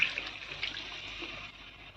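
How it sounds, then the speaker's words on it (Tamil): Tamarind water poured into a pan of frying vegetables for a South Indian mochai kuzhambu, a soft, steady watery hiss and splash lasting about two seconds, close but quiet. "புளி தண்ணி வந்து சேர்த்துக்கணும்"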